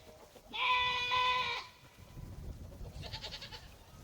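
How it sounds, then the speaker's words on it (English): A female goat in heat lets out a loud, drawn-out bleat, followed after a short pause by a second, shorter and quieter bleat over faint background noise. "When goats come in heat, they get real vocal"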